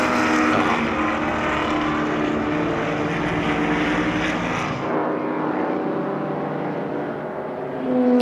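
An ISO Revolta GT 64 classic racing car roars past on a racing circuit, a loud sustained engine drone that fades slightly as it moves away.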